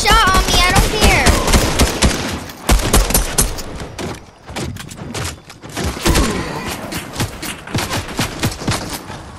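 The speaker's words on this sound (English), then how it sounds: "Someone is shooting at us." Rapid gunfire rattles in bursts during a Fortnite match, sharp volleys and thuds crowding together up close, while players' voices come in over the shooting.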